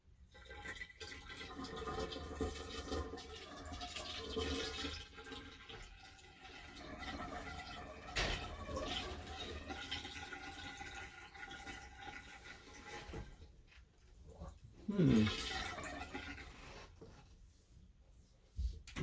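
Water poured onto a newly built bathroom floor during a leak test, a steady broadband wash of splashing and trickling with a sharp splash burst near the end, fairly close.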